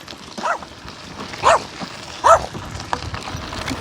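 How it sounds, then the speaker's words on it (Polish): A dog barks three times at spaced intervals, the barks moderately loud over a busy, noisy outdoor background. "Pimpuś szczeka na Aresa"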